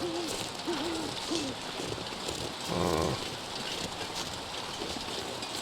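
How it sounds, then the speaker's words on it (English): Owl-like hoots from birds in The Long Dark wilderness survival game, three short wavering calls in the first second and a half, fairly faint, over a steady windy ambient hiss, followed by a brief low rumble. "I hear the birds"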